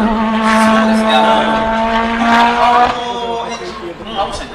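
A Honda racing car with a 2-litre turbo engine roars past on the straight, its loud engine note sweeping through harmonics and then fading slightly as it moves away; a voice speaks over it.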